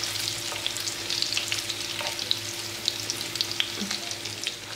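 Cauliflower florets frying in oil, a steady bubbling sizzle peppered with small pops and crackles, near and moderately loud.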